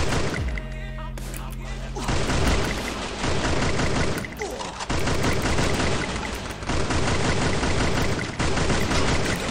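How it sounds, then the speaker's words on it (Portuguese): Gunfire in the Free Fire video game, loud and almost continuous volleys of rapid shots with brief gaps, dense and close throughout. "Olha o cara me atirando aqui nas costas"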